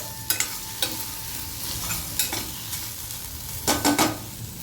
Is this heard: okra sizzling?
yes